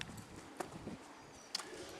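Hooves of a horse in a riding training session land in a soft, regular clip-clop rhythm, faint and close, with a couple of sharper knocks.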